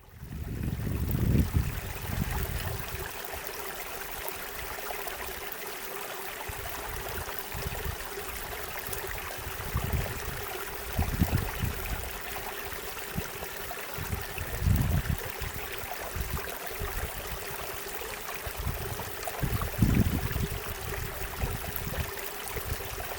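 A mountain lake outlet stream in Utah's Uinta Mountains flows over rocks, a steady broad rush of water with low gurgling surges, fairly close and continuous with no talk.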